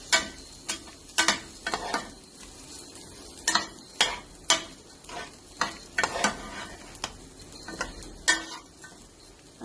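Rice being stirred in a small amount of ghee, giving a steady soft sizzle broken by repeated scraping strokes of a spoon against the pan, roughly a dozen distinct clatters at an uneven rhythm, close up with no talking.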